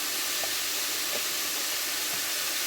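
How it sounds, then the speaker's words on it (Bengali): Pointed gourd, potato and chopped onion sauté together in hot oil, giving a loud, continuous sizzling hiss that fills the whole moment with no talk. "সব একসঙ্গে সবজিগুলো আমি তেলের মধ্যে দিয়ে কষিয়ে নিচ্ছি।"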